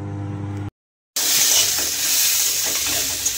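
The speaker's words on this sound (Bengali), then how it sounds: "কড়াইতে আলু ভাজছি" Potatoes frying in a wok give off a loud, steady sizzle and hiss, heard up close after a brief cut of silence, with no talk over it.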